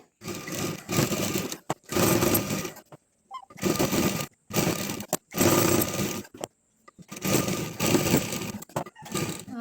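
A sewing machine stitches a box-type cloth bag made from vest fabric, running in loud, close bursts of rapid whirring separated by short silent pauses, with no voices.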